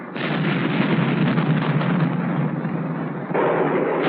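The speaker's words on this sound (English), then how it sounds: "The 250-pound warhead exploded on contact 25 feet from the aiming point." A Bullpup missile's 250-pound warhead explodes on contact against a concrete bunker target, producing a sustained, loud, muffled roar and rumble that continues for several seconds.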